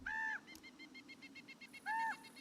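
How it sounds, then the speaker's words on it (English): A crow in the video game Luma Island gives two loud, harsh caws separated by a short pause, with faint rhythmic chirping in between. "Why do I keep hearing a crow screaming though and I can't see it anywhere?"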